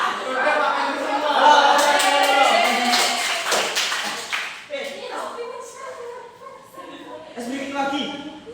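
Hand clapping in a classroom microteaching lesson, a burst of claps mixed with children's and adults' voices talking and chanting over it.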